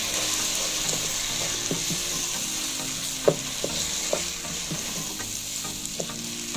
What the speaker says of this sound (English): I'm going to give this a good stir